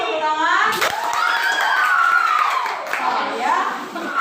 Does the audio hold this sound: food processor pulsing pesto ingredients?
no